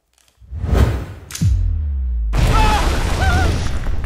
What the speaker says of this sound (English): Do cool guys not look at explosions?